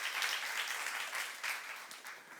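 Applause from a church congregation, a soft, even patter of many hands clapping at a distance, sustained with slight swells and no talk.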